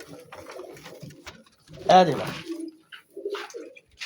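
A teddy pigeon coos in a short, close burst midway through while someone talks over and around it.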